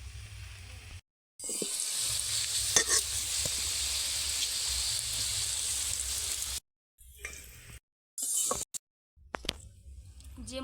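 Potato pieces frying in hot oil in a pan, a steady close sizzle broken by brief silent gaps and a few clinks of stirring, with no talking.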